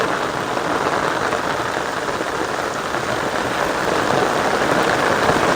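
Monsoon rain falls steadily over a village in Gujarat, a constant close wash of drops with a faint low hum beneath and no one speaking.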